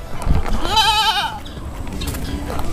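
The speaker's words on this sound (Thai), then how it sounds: "แพะ แพะน่ารักอ่ะโคตรน่ารักเลยอ่ะ" A goat bleats at a petting zoo at Singha Park, one wavering, shaky call close up and fairly loud, with faint background voices and farm noise around it.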